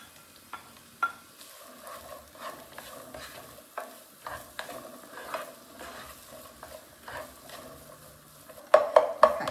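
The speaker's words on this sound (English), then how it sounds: "Let's go ahead and put that in the pan and begin to saute that." Chopped onion sautés in beef drippings in a pan as a soft, low sizzle broken by frequent utensil scrapes and taps, ending in a few sharper metallic clinks; no voices.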